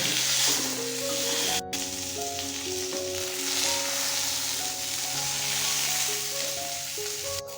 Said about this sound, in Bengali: বেগুনগুলোকে উল্টে পাল্টে ভালো করে প্রথমে ভেজে নেব।